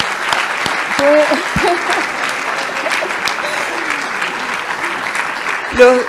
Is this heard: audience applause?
yes